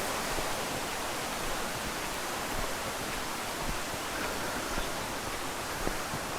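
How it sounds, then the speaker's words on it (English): A small creek near a dam flowing freely, a steady broad rushing hiss of water that stays even and unbroken, moderately quiet with no voices. "that little creek that sort of keeps the dam level is flowing pretty freely now"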